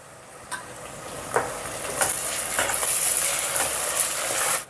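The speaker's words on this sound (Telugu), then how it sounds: "స్టవ్ని మీడియం ఫ్లేమ్లో పెట్టుకొని మరీ బ్రౌన్ కలర్ కాకుండా రంగు మారేంత వరకు ఫ్రై చేసుకుందాం" Onions and ginger-garlic paste fry over a medium flame while being stirred in a pan for a country chicken curry, with a steady bright sizzle that swells louder and occasional soft clinks of the spoon, close, without talk.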